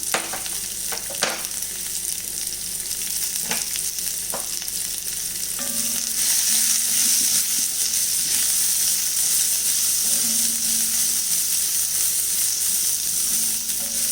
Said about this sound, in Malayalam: ഇനി ഇതിലേക്ക് നമുക്ക് അരിഞ്ഞു വെച്ചിരിക്കുന്ന ബീൻസ് ഇട്ട് കൊടുക്കാം